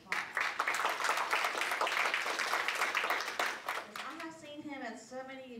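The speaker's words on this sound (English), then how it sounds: "let's give him a big round of applause" An audience applauds a commissioner at a live event on Taiwanese watercolor paintings, steady clapping for several seconds before fading as a voice begins speaking.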